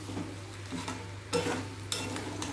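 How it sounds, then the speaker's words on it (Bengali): Potato and chicken pieces are sautéed in a pan, with a soft background sizzle and a few sharp scraping stirs of a utensil against the pan, fairly quiet and close, with a low steady hum underneath. "দিয়ে ভালো করে আবারও একবার কষিয়ে নিচ্ছি আলু আর চিকেনের পিস"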